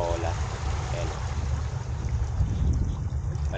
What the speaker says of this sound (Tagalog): Malakas ang hangin, walang future dito